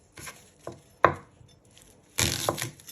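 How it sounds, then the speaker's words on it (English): Knife chopping the ends off shallots on a cutting board, several separate sharp, close thuds with short gaps, the last cut a longer, scraping chop. "You first want to chop the ends off."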